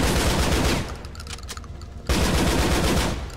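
Rapid bursts from an auto shotgun in GTA IV: The Lost and Damned, fired in loud, dense blasts with a short gap in the middle before another volley. No voices.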